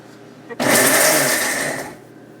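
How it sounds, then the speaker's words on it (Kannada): A kitchen mixer grinder pulses once, grinding cashews, raisins, dry dates, jaggery and neem flowers for Ugadi bevu bella; a loud whirring roar starts abruptly and holds for about a second and a half before winding down. "ಈ ಪುಡಿಗೆ ಬೇವಿನ ಹೂನು ಕೂಡ ಹಾಕಿ ಒಂದೇ ಒಂದ್ಸಲ ಪಲ್ಸ್ ಮಾಡ್ತೀನಿ"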